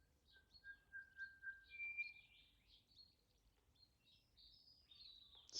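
Birds chirp and whistle in a lively outdoor dawn chorus, several calls overlapping at moderate distance in cool morning air, with one sharper call near the end and no one talking.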